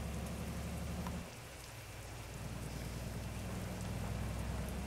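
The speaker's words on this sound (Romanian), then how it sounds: "da, plouă, mă, mamă, cât a plouat cursa asta" Steady rain hisses and drums on a Scania truck in Euro Truck Simulator 2, a dense wash of noise over a low engine drone that dips briefly and then returns.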